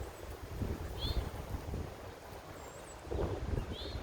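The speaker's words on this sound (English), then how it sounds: "it's really windy out" Gusty wind rumbles across the microphone in low, uneven surges, with a few faint bird chirps in the distance.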